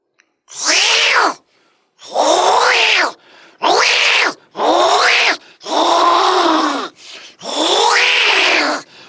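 A person imitates a cat's meow while demonstrating the yoga cat pose, giving six drawn-out, close, loud meows separated by short silences.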